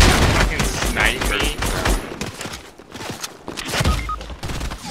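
Gunfire in a Fortnite squad match, dense bursts of shots and booms crowding the first two seconds, then scattered shots and footsteps continuing, with players talking over the action.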